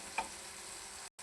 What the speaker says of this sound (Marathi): तर मस्त बारीक गॅसवरती आपण हे सोयाबीन फ्राय करून घेऊया.